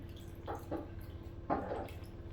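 Liquid poured from a nearly empty bottle into a bowl for keto sloppy joe, heard as a few short glugging splashes, two small ones early and a louder one midway, close and faint with no talk.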